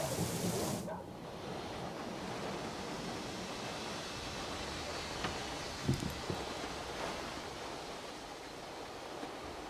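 A thunderstorm with rain in the video game Syberia: The World Before: steady hissing rainfall throughout, with a brief loud crack near the start and a faint low rumble later, no voices.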